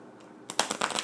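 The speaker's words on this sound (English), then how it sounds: "So we do this for shuffling." A deck of playing cards is shuffled close by, a quick burst of crisp riffling flutters and slaps that starts abruptly after a quiet moment.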